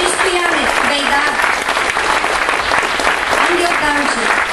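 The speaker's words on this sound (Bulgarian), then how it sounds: "Моля за вашите аплодисменти." Audience at a Bulgarian folk concert with bagpipers applauding in a dense, steady clatter of clapping throughout, with an announcer's voice speaking over it.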